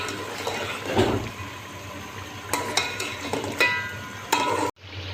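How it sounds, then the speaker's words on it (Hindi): Masala for layered chicken biryani being fried and stirred in a pot, close sizzling with intermittent scraping of a spoon against the metal, then a sudden cut to a brief quieter sound. "ये मसाला खूब अच्छी तरह से भून चुका है।"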